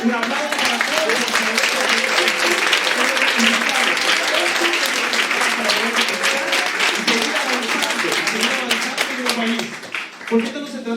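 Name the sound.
audience applause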